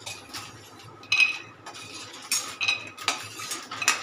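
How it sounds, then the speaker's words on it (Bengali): Utensils clink and scrape against a plate and pan while stir-fried food is lifted out, a few sharp metallic chinks over faint background noise, no talking. "এবারে আমি প্লেটে তুলে নিচ্ছি"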